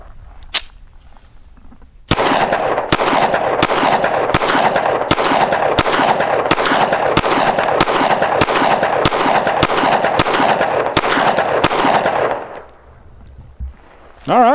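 A GForce Exodus RPX9 9mm pistol firing silver tip rounds, about fifteen loud sharp shots in an even, quick cadence at close range, with a single shot before the string and quiet afterward.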